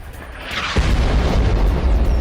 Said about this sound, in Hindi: ये देखिए यूक्रेनी अटैक के बाद सुना गया जोरदार धमाका।